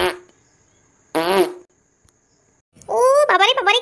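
Cartoon fart sound effects in a Bengali comedy cartoon, a short burst near the start and a louder, longer, warbling blast at the end, with a faint tone and quiet gaps between them.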